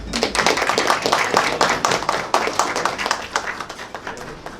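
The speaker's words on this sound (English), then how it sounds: "So give yourselves a round of applause." Seminar audience at an auto parts event applauding, a dense burst of many hands clapping that holds steady then gradually thins toward the end, close and loud with no talk.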